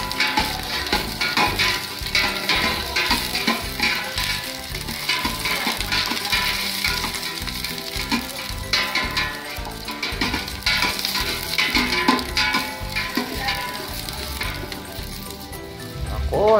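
Onion sautéing in a pan, a steady close sizzle and crackle with stirring scrapes, continuous throughout.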